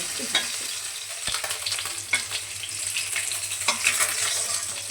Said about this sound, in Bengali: এক পিঠ ভাজা হয়ে গেছে, আরেক পিঠ ভাজবো